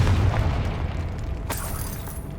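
A Confringo blasting spell explodes in Hogwarts Legacy, a deep booming burst at the start fading into rumble, followed by a sharp crack partway through.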